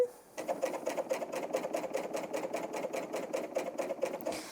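A Bernina L860 overlocker is turned slowly for a few revolutions, giving a soft close rhythmic whirring with regular stitch clicks and no voice.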